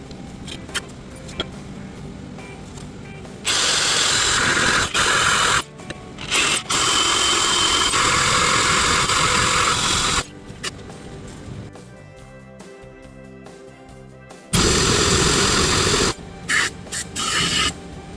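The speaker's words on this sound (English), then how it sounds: "Keep grinding down into it." A grinder cutting into a cracked, bent metal engine part on an Arctic Cat Prowler 500 with jumped timing, loud harsh grinding in several long bursts separated by quieter pauses, close up.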